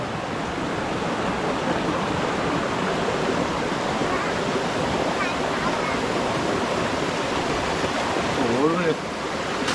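Steady rushing water fills the whole stretch, a continuous broadband wash from a nearby stream along a forest nature trail to a waterfall, with faint voices blended underneath.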